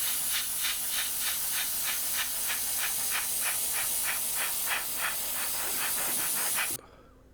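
Airbrush spraying thin coats of paint across an Eduard F4F-4 Wildcat 1/48 scale model kit, a steady close hiss pulsing in quick regular bursts that stops abruptly near the end.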